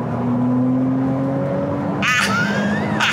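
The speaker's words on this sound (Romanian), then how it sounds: "Fabulos cât de tare merge mașina asta." Ferrari 296 accelerating at the 24 Hours of Le Mans, a steady engine drone with rising harmonic tones, joined near the end by a brief higher-pitched surge as the car pulls harder, loud and close throughout.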